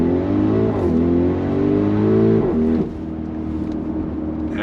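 A 2022 Audi RS Q8 SUV accelerates hard on throttle from a slow roll out of a turn. The engine's loud, close roar climbs steadily in pitch for almost three seconds, then eases to a lower, steady drone.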